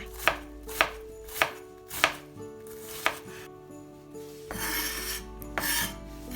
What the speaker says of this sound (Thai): ขอขูดก่อนแล้วค่อยสับทีหลังค่ะ